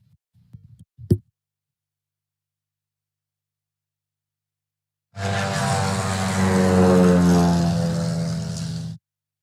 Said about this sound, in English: Let's just go ahead and be quiet and listen to the sound and enjoy this takeoff.